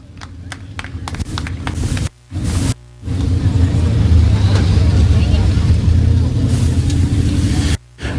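Mini stock race car engine idling and rumbling at close range as the car rolls into Victory Lane at a speedway, a steady loud drone with brief dropouts, under an announcer's talk.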